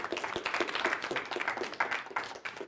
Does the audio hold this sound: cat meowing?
no